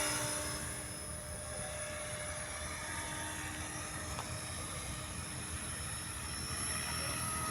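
A Trex 500 RC helicopter fitted with an MD500 scale body flies at the UP Field, its rotor and motor making a steady, even drone with a faint high whine, heard continuously at moderate distance.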